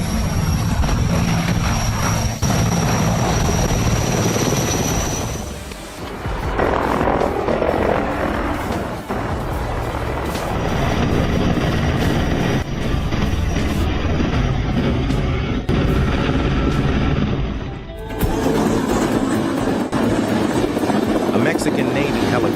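A loud Mexican Navy helicopter with heavy rotor thumping and engine whine, close by, with brief dips in volume partway through.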